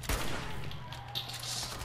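Bursts of rapid gunfire from the video game Fallout 4 crackle at low level through a game scene.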